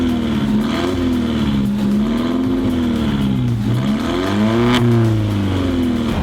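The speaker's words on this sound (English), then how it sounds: "This thing has an incredible exhaust. Sounds so good for a 4-cylinder car." An Alfa Romeo 4C four-cylinder sports car engine revs repeatedly, its raspy exhaust note climbing and falling in several close, loud pulls.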